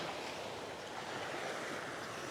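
Surf washes steadily onto a beach in Phu Quoc, Vietnam, a continuous broadband rush of breaking waves with some wind, heard close while walking along the shore and with no voices.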